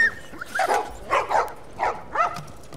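Dogs bark in four or five short, evenly spaced volleys against a quiet background, sounding fairly close and clear with no other activity around them.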